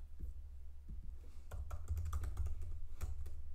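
Typing on a computer keyboard, with quick irregular clusters of close, soft key clicks over a low steady hum.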